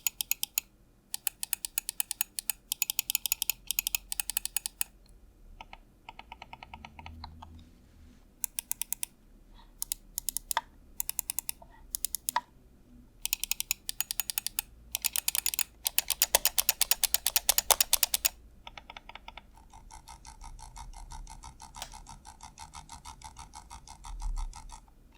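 Clicks from the switches of a Logitech G Pro X Superlight wireless mouse, sharp close-up taps in short bursts separated by brief pauses, with no talking.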